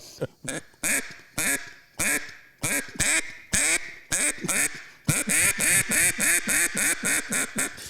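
A duck call is blown to mimic a live hen mallard's quack, giving a loud, close series of about a dozen sharp nasal quacks in a steady rhythm that grows faster and more insistent toward the end.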